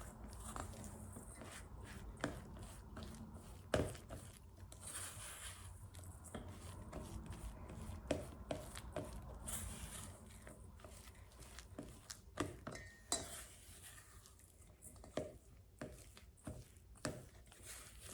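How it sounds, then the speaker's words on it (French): A spatula working almond flour with xanthan gum in a bowl for keto fries, giving irregular soft scraping, pressing and tapping sounds, some sharp knocks against the bowl, close by. "Je vais travailler ça avec ma spatule."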